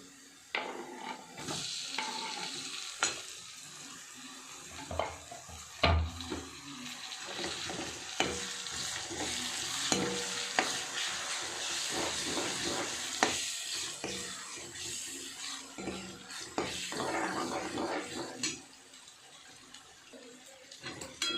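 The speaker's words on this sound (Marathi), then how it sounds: "आता आपण टोमॅटो हे चांगलं परतले" Tomatoes and ginger sauté in a pan with an uneven sizzle, broken by frequent spatula scrapes and clatter that come and go, growing quieter toward the end.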